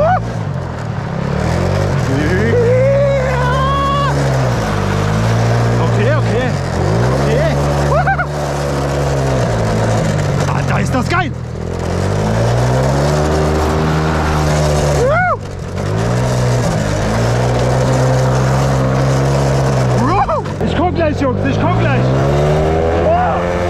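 Small engine fitted to a motorized shopping cart revs loudly and close in repeated rising and falling bursts, with first gear engaged, as voices talk over it throughout.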